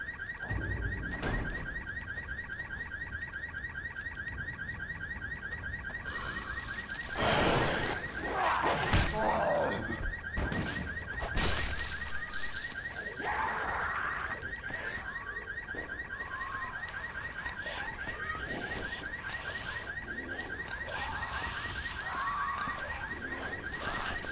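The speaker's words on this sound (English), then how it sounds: "Where's the damned alarm switch? Gotta kill the power." A car alarm in the video game Dead Island Riptide pulses continuously throughout in a rapid repeating electronic tone, while thuds, scuffles and other game noises break in around the middle.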